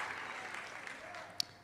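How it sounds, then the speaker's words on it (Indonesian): Brief clapping from a church congregation during an Indonesian Sunday Pentecost-season worship service, a soft, fairly distant patter of hands lasting under two seconds, with one sharp louder click near the end. "Kita tepuk tangan sekali lagi buat Tuhan"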